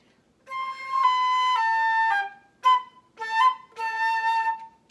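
Flute played through a short phrase without the proper articulation, breathy sustained notes connected and broken into a few separate groups with brief gaps, clear and solo.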